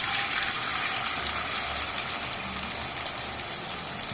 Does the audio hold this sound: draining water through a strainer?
yes